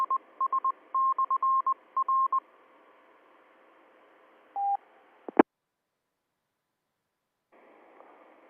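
DTMF identifier tones come over amateur VHF radio as a rapid series of short beeps, followed by a click and a squelch burst, then a low hiss.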